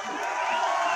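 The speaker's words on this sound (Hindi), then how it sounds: "जोरदार तालियां कालू के लिए।" An audience at a Hindi star night stage show with a dance group cheers in one brief, steady crowd roar of voices without distinct claps.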